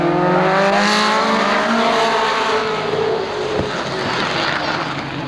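Stock cars racing on a short oval track at Raceway Park in Shakopee, Minnesota in 1987, engines droning loudly and steadily past at a distance, with pitch sweeping as the cars go through the turns.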